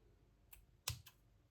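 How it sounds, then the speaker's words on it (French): Scissors cutting ribbon into short lengths for small bows in a scrapbooking craft: a few faint, quick snips, one sharper than the others, in a quiet room. "avec des ciseaux, je vais couper"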